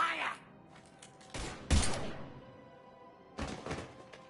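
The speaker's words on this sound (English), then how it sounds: "Now open fire!" Gunfire in a PS4 shooter comes as several separate heavy bursts and thuds, with a quiet game background between the louder shots.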